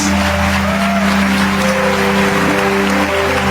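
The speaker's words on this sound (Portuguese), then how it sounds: "aplaude bem forte a Jesus" A church congregation applauds loudly and continuously, the clapping steady throughout with sustained music or organ tones underneath.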